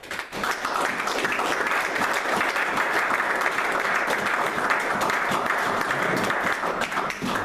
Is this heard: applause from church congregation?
yes